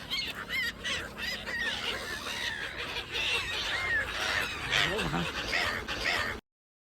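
Repeated honking bird calls overlap in a busy flock at Lakadiya bridge, Bhavnagar, loud and near, with people talking underneath.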